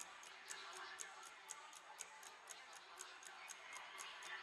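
A wall clock ticks evenly about twice per second, faint and crisp, under a bed of steady hiss and soft background noise with no talking.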